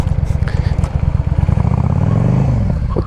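A 2010 Yamaha V Star 650 cruiser motorcycle at highway speed, its engine putting out a loud, steady, throbbing drone with rhythmic pulsing and a rising tone near the end, mixed with road and wind noise.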